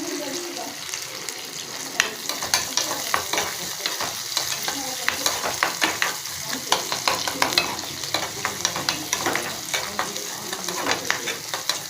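Onion and curry leaves fry in oil with a continuous crackling sizzle, close by, broken by repeated rhythmic scrapes and taps of a stirring spatula.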